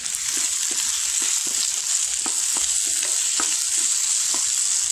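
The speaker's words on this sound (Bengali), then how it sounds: "এখন এই রসুন, পেঁয়াজ, কাঁচামরিচগুলো একটু ভাজা ভাজা করতে হবে।" Loud, steady sizzling of garlic, onion and green chillies frying fills the clip, with occasional soft scrapes of stirring; no voices.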